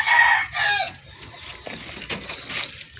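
Farm chickens cluck in short bursts close by while a rooster's crow rises at the start, followed by scattered lower clucks and rustling.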